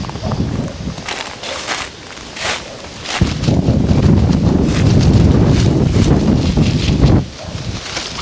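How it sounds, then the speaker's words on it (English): Strong outdoor wind buffets the microphone in a steady, low, rumbling roar that swells louder from about the third second, with faint rustling over it and no speech. "The wind's picking up."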